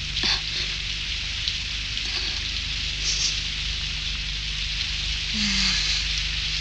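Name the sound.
rain falling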